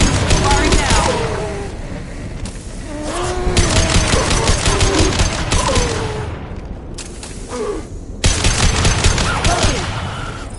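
Rapid bursts of weapon gunfire from the video game Mass Effect 2, loud and dense, coming in several volleys separated by brief lulls, with a voice speaking faintly beneath the shooting.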